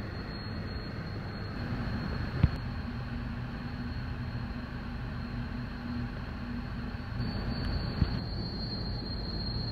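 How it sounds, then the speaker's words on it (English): A long, empty freight train a couple of kilometres long rumbles steadily past at a distance near Cossack, Western Australia, with continuous wheel noise and a faint high squeal, plus two sharp clanks along the way. "We've got a train at the lights."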